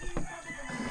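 Chickens clucking close by on a poultry farm, short bursts of fowl calls over a busy farmyard background, fairly loud and continuous.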